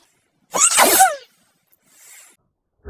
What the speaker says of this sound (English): Pollen incoming sneeze.